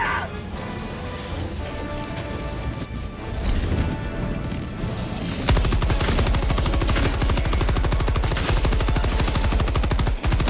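A sentry turret in the video game Helldivers 2 opens up with loud, rapid automatic fire over other battle noise, then settles into a steady, dense stream of shots.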